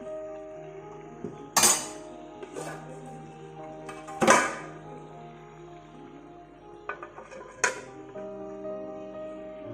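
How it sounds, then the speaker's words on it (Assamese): A metal lid set onto a pot of simmering chicken curry gives a few distinct clinks and clanks spread over several seconds, close and moderately loud above a low steady background hum, with no talking. "এতিয়া মই মাংসখিনি 5 মিনিটৰ কাৰণে ঢাকি দিম।"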